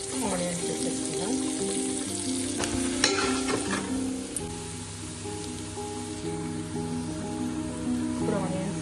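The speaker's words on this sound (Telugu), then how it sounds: "ఇప్పుడు ఆనియన్స్ ఫ్రై అయినాయి," Chopped onions fry in a few spoons of oil with cinnamon, cloves, cardamom and peppercorns for egg biryani: a steady, close sizzle with stirring, while a voice or tonal background runs underneath.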